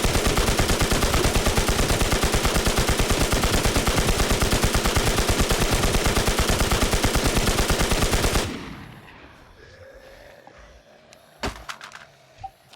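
Sustained rapid machine-gun fire in the video game Infestation during a boss fight at Norad Military Base, a loud unbroken stream of shots for about eight seconds, then quieter game ambience with a few scattered clicks.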